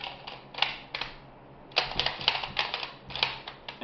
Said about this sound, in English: Reinstall your bolt.